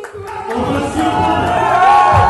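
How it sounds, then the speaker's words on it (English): An arena crowd gives Francis Ngannou an ovation after his title belt is presented, a loud swelling roar of cheers that builds and holds. "Ovation."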